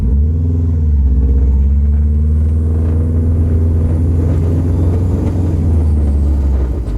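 A new Subaru WRX engine runs after its first startup, a loud, steady low rumble that idles evenly and close by throughout, with a slight rise in revs early on.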